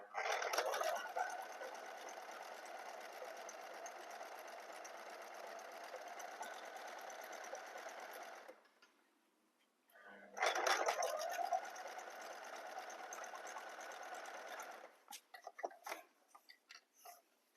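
A Luxmi Zing sewing machine stitching cloth runs in two long, steady whirring bursts with a brief pause between, loud and close, followed by a few short stops and starts.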